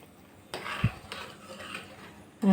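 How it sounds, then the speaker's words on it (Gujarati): A spoon stirs sambhar rice in a pressure cooker, giving soft scraping and a few light metallic knocks against the pot, close and quiet with no talking. "અને એને સરસ આવી રીતે હલાવી લેશું."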